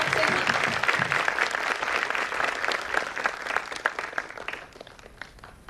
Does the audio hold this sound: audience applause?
yes